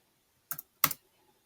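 Keys on a computer keyboard are struck in two brief, close clicks, the second slightly louder, with quiet before, between and after them.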